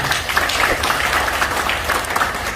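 Applause from the audience at a gathering welcoming an anti-usury community, a steady dense patter of many hands clapping together across the whole stretch.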